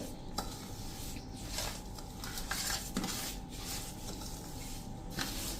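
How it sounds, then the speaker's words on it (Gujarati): A spoon scrapes and clinks against a bowl as red chili powder is stirred into a dry methiya masala spice mix for mango pickle. The sounds are quiet and irregular, with no voices. "તો હવે આ રીતે આપણે મરચું એડ કરી અને મિક્સ કરી લઈએ."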